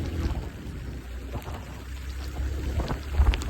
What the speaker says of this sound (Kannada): ಫೈನಲಿ ಮಳೆ ಜೋರೇ ಆಗೋಯ್ತು ಗಾಯ್ಸ್.